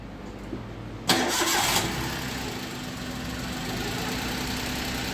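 A car engine cranks briefly and catches, then settles into a steady, loud idle close by.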